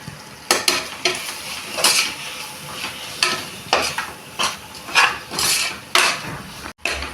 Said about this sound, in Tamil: போட்டு கொஞ்சம் உப்பு போட்டு